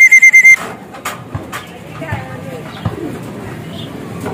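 Racing pigeons returning home from training in San Pablo, Laguna, coo softly at the loft, the soft calls mixed with a voice talking nearby.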